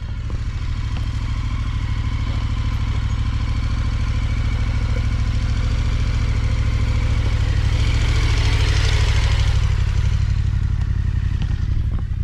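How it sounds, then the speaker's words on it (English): An adventure motorcycle rolls downhill under light front braking, its engine holding a steady low, throbbing idle-like note with faint mechanical clatter throughout, close and continuous. "she's executing fantastic front brake control by just lightly squeezing the front brake and dragging it"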